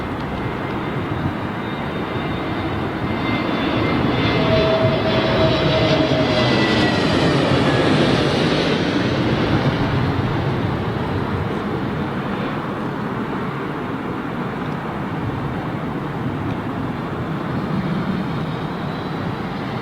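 An Airbus A320neo jet arriving on runway 27L at London Heathrow, roaring loudly as it passes close overhead, with a swelling and fading whine and broad rumble that sits over constant nearby road traffic noise.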